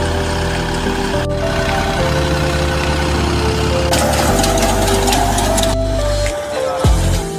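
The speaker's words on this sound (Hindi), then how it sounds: "और अब अपना मैं ट्रैक्टर थ्रेसर चला रहा हूँ" A tractor-driven thresher threshes lentils with a loud, steady mechanical drone and engine rumble that holds without pause, its tone shifting slightly near the end.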